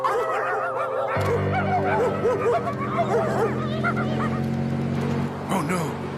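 A voice imitates a dog, giving a string of playful barks and yaps like "bow wow, arf" over a sustained background tone.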